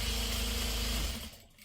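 Sewing machine stitching pre-cut quilt fabric for a scrappy sawtooth star block, a close steady motor whir running fast, then winding down and stopping near the end, no voices.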